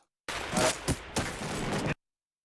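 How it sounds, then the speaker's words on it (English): Rapid burst of AK rifle fire in Escape From Tarkov, shot one-handed from the hip, loud and close, a dense rattle lasting under two seconds with a short break partway through. "There you go, one-handed AK firing from his side there."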